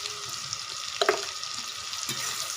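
Onion and tomato frying in a pan with a little salt, a low steady sizzle with a couple of brief louder crackles and scrapes in the middle.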